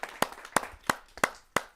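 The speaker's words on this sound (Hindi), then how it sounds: "आइए जोरदार तालियों से उनका स्वागत करते हैं।" Several sharp, spaced claps ring out at a poetry recital as the audience welcomes a poet, with about five distinct hits at a steady pace, close and fairly loud, and no voices.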